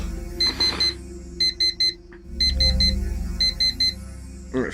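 An alarm clock in a PC adventure game beeps in repeated bursts of four rapid tones, loud and close, over a low steady hum.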